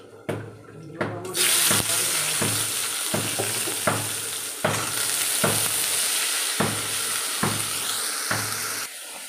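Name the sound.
brinjal frying in a pan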